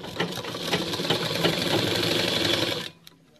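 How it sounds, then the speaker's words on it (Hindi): A sewing machine runs steadily, stitching a fabric strip along the edge of net fabric for an Anarkali frock, with a close, continuous whirring hum that cuts off abruptly near the end. "अब हम इसे सीधे कपड़े पे रखते हुए इस तरह सिलाई"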